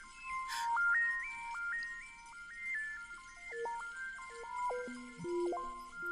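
Strange, synthetic alien tones drift from trees in the video game Proteus, a quiet, wandering melody of stepped electronic notes that rise and fall over a faint hiss.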